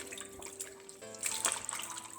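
Salt mackerel is rinsed in water, a brief run of splashing and trickling liquid that grows busier halfway through the short moment.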